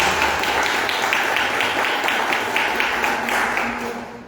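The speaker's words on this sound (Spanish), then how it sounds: "Dá uma salva de palmas para Jesus" A church congregation claps for Jesus during a service, dense continuous applause at an even level that fades toward the end.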